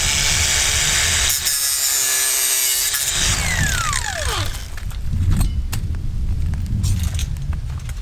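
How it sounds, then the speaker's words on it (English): Tools cut and scrape at old clips on a barbed wire fence post at a ranch, with loud rasping and a rising metallic squeal in the middle, then scattered clicks and knocks. "So we're cutting off these old ones because we're just gonna be sticking them to our new ones with new post clips."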